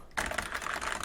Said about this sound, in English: It's an Apple design keyboard.